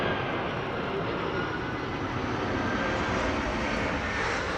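An Airbus A380 approaching Amsterdam Schiphol's runway 36R gives off a continuous, broad engine roar, steady and unbroken throughout, with no voices.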